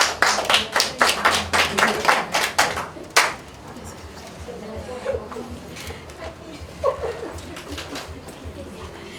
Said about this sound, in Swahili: So makofi kwa hiyo group.